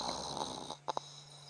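A voice imitates a male lion snoring, giving one drawn-out rasping snore followed by two short snorting puffs, close and fairly quiet.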